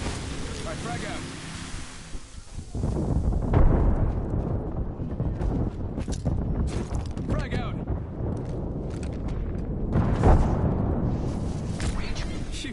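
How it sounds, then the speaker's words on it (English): Airstrike and frag grenade blasts in a video game land as a sudden loud burst of rumbling explosions, with sustained booming noise and a second heavy swell near the end, under game chatter. "Calling the airstrike. Airstrike. All right, frag out."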